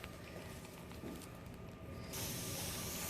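A spray nozzle misting water onto a hinged artificial Christmas tree branch during DIY snow flocking, a steady close hiss that grows louder and brighter toward the end, with faint mechanical clicks underneath.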